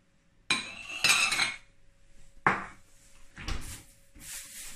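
A plate set down on a table while breakfast is laid out, along with bread and eggs: a few close, sharp clattering knocks separated by short pauses, with no talking.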